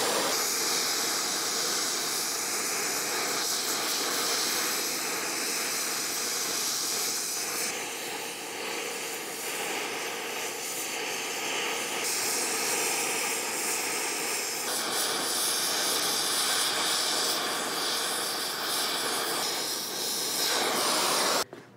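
A gas torch roars with a steady, loud hiss while brazing filler into a worn slot in a cast iron arbor press part. The flame noise runs continuously with slight shifts in pitch as it is adjusted, then cuts off abruptly at the end.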